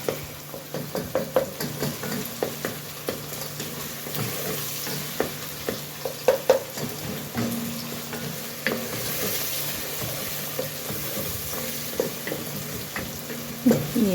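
Food sautéing in a pan for a Turkish home-cooked meal before tomato paste goes in, a steady close sizzle broken by frequent stirring scrapes and clinks of a utensil against the pan, with no talking.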